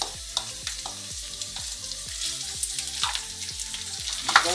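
Minced meat frying in a pan with sofrito of garlic for a ragù: continuous close sizzling with steady scraping and stirring, a rhythmic bubbling undercurrent and occasional louder crackles.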